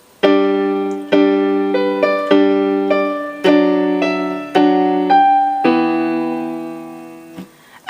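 Right-hand piano part from the intro of a song, played alone as a steady run of sustained single notes and chords, each struck about every half second, clear and close.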